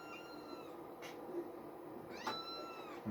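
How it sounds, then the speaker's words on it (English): Cats meow and caterwaul indoors, with a few drawn-out, rising yowls, one a sharp cry near the middle, standing out over a quiet room. "Cats, would you stop screaming?"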